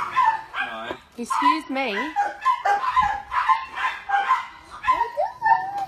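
A dog yips, whimpers and barks close by in short, excited bursts, mixed in with someone talking.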